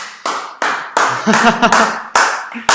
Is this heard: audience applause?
yes